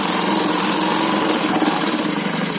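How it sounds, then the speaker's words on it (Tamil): Sewing machine stitching a straight seam on a pillow cover, a steady fast motor whir running continuously and close up, with no speech. "பில்லோ கவர் தைக்கிறது ரொம்ப ஈஸி,"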